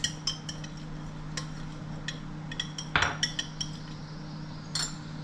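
A spoon stirs bulletproof keto coffee in a cup, giving light metallic clinks and taps scattered over a few seconds, with one louder knock near the middle, close and clear.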